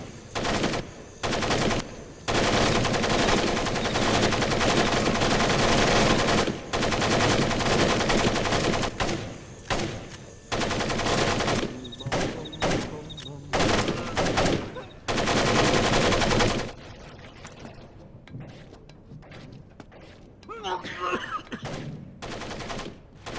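Rapid bursts of automatic gunfire in Splinter Cell: Pandora Tomorrow, loud and sustained in long volleys broken by brief gaps, then thinning to scattered, quieter shots and echoes near the end.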